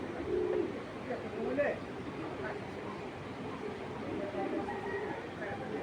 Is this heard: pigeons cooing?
yes